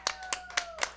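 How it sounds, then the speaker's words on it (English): A few hand claps from a TV variety show audience, four distinct sharp claps about a quarter second apart, close and fairly clear, with a faint steady tone running underneath. "A round of applause"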